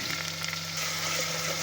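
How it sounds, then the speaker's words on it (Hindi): Garlic ginger paste sautéing in a pan, a dense, even sizzle close up that holds steady for a moment with no voices. "पेस्ट को लहसुन अदरक की पेस्ट को अच्छी तरह सौते करेंगे तकरीबन 1 मिनट तक के लिए।"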